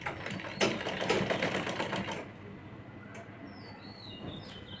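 A sewing machine stitches a kurti in a fast, steady whir for about two seconds, then stops, leaving a quiet room with a few faint chirps and light handling sounds.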